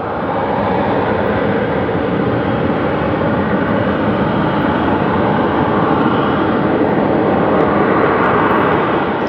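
A loud, steady roaring rumble from a malfunctioning oil refinery at night in Barrancabermeja, a broadband jet-like drone that holds constant without pause throughout.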